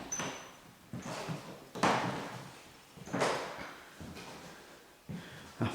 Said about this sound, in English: Let that door close.